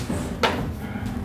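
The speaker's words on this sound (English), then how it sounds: "Knocking on the door like that." A single sharp knock on a wooden door, from a doorway at the back of a house, sounding once near the middle of a short stretch of low indoor room noise.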